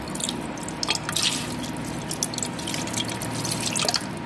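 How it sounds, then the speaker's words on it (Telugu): Water poured into a buttermilk mixture gives a steady trickling, dripping splash that runs on without a break. It is close and fairly loud, with no talk over it. "ఇప్పుడు ఇంకొంచెం వాటర్ అయితే వేసుకుందాం"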